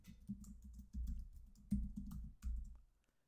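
Typing a password on a computer keyboard: short bursts of soft, close key taps in uneven clusters, quiet and alone, fading out at the end.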